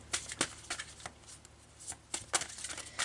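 Tarot-style cards are shuffled and drawn for a reading, giving several quick papery riffles and slaps at an uneven rhythm, close and fairly soft.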